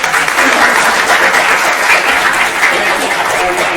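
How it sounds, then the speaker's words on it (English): Loud, dense applause from an audience at a talk on the Prince Hall Masons of Nassau County, sustained clapping filling the room throughout with no pause. "So if you could do me a solid and give him a round of applause."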